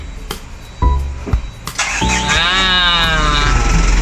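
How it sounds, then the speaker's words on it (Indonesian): A cold chain logistics truck engine cranks with a few short bursts, then catches and settles into a steady, loud running idle close by. "sekarang kita saatnya hidupkan mesin"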